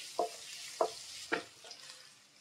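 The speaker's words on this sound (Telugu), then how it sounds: "ఇప్పుడు అల్లం వెల్లుల్లి పేస్ట్ వేసుకుందాము. ఇది ఒక 2 నిమిషాలు వేయించుకోవాలి." Ginger garlic paste frying with onions, green chillies and curry leaves for a spicy liver fry gives a faint, soft sizzle, broken by three evenly spaced spatula taps against the pan.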